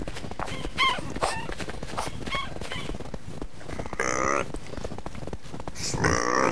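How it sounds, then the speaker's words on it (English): Hungry pigs in the medieval farming game Medieval Dynasty squeal and grunt repeatedly over a dense background of farmyard noise, with louder squeals near the middle and end. "Sorry, pigs, I know you're hungry."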